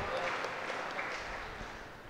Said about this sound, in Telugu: విచారణకర్తలు రెవరెండ్ ఫాదర్ ధనరాజు గారు, మరి అందరికి కూడా పేరు పేరున గట్టిగా చప్పట్లు కొడుతూ పేరు పేరున వందనాలు తెలియజేసుకుందాము.